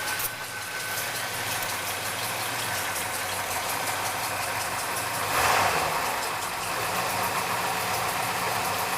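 A car engine idles steadily after its alternator belt has been tightened, a constant close mechanical hum with a faint rhythmic ticking and a brief swell midway.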